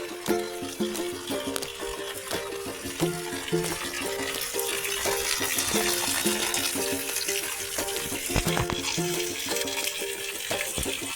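Water runs steadily from a village water source in the hot season, a continuous gurgling, splashing stream close by, heard alone with no talking.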